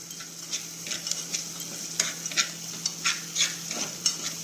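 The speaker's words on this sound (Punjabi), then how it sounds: "ਤੜਕਾ ਹੋ ਰਿਹਾ ਭੁੰਨ ਰਿਹਾ" Spices crackle and sizzle in a hot pan, stirred with a spoon, close up, with a steady hiss broken by frequent small pops and stirring scrapes.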